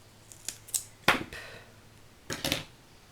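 Scissors make fine cuts around the legs of a small paper craft figure for a handmade memory card game: a quick run of light snips, then a sharper cut, a pause and two more crisp snips close by.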